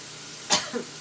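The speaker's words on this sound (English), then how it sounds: "I'm still coughing a tiny bit." A single short cough, close and fairly soft, followed by a small throat-clearing rasp against quiet room tone.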